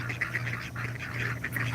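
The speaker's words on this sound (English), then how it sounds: "We got some very noisy ducks over there." Noisy ducks quacking in a steady, overlapping stream of calls close by, loud and continuous with no talk over them.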